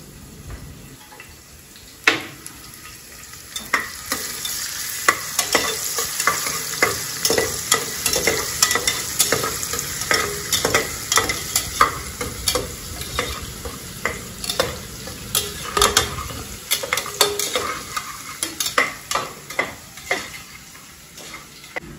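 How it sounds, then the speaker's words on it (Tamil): Garlic sizzles steadily in hot oil in a single pot for Schezwan rice, with frequent sharp scraping and tapping from stirring scattered over a continuous frying crackle, close and moderately loud. "ஆயில் போர் பண்ணிட்டு பூண்டு, இந்த பூண்டு வந்து பாதி இப்ப போடணும்."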